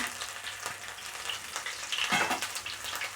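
Green chili and ginger fry in hot oil with a pinch of asafoetida for masala chole, producing a steady close sizzle with faint stirring scrapes over a brief moment.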